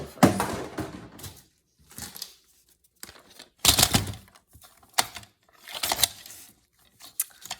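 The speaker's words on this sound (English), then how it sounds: "Let's cut it straight first. Get used to being fast with my cutter." A hand paper cutter trims cardstock and scrap paper in quick bursts, with sharp, close slicing strokes separated by short quiet gaps and irregular rustling.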